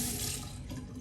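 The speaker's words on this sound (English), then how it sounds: "Rinse it off." Running tap water rinses a Henson AL13 safety razor over a sink, a steady, close, full-bodied splashing rush that holds constant for the whole second with no voices over it.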